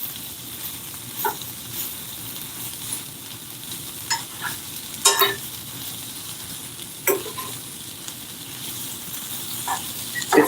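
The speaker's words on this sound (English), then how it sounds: "The sausage is browning really nice." Sausages frying and browning in a pan while being stirred and turned, giving a steady soft sizzle with occasional scraping clicks of the utensil, close and moderately quiet, with no talking.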